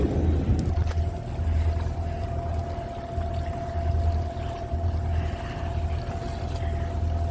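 A motorboat cruising under engine power on windless open water, with a steady low engine drone and a sustained whine running throughout at close range, alongside water and wind rush.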